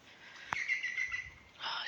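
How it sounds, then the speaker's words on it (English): A green woodpecker's call rings out at moderate distance over outdoor ambience, with a sharp tap near the start and another burst of calling toward the end. "that's the green woodpecker you can hear."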